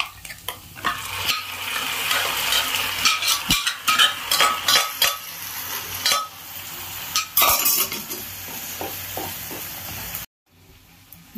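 Beef is stirred into sautéed onions in a sizzling pan, with the spoon scraping and clinking in uneven bursts over a steady fry before it cuts off near the end.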